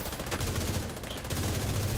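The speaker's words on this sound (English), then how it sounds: "Hold on while I empty a 70 round mag on your head." Sustained automatic rifle fire from a 70-round magazine in The Division 2 video game, a dense continuous burst of rapid shots lasting the whole stretch with no talking.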